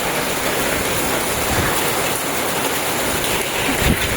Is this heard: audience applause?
no